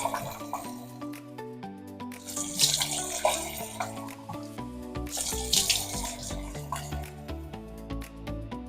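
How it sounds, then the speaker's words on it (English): Tap water runs steadily into a sink while a face is being wetted, with splashing and dripping that swell and ease in two louder bursts over the steady flow; no one speaks. "Step one, I'm gonna wet my face."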